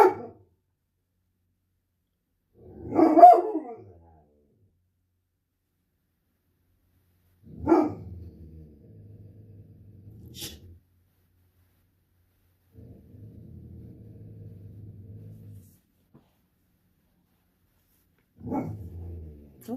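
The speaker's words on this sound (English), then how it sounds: "The neighborhood dogs are barking." Dogs somewhere in the neighborhood bark in scattered short bursts, each followed by lower growling or rumbling, with long quiet gaps between them.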